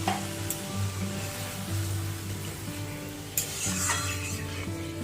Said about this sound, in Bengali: মশলা হয়ে গেছে ভাজা ভাজা এবার জল দিয়ে দিচ্ছি